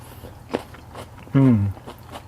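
A single crisp crunching bite of green beans in tofu dressing (shiraae), then a short satisfied hummed voice over quiet room tone.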